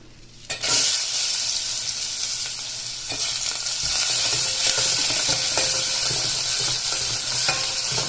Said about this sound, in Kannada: ಈರುಳ್ಳಿ ಹಾಕಿ ಸ್ವಲ್ಪ ಫ್ರೈ ಆಗಿ